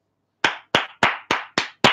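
Six sharp hand claps in a steady rhythm, each crisp and close with a short decay, heard alone with no talking.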